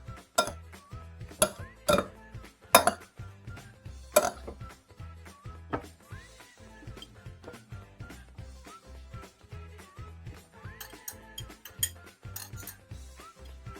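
Food is stirred and plated for a Thai spicy dry-tossed pork cartilage dish: busy clinks and scrapes of utensils against a pan and dish, several sharper metallic hits, steady rhythmic clatter over a soft low background, no talk.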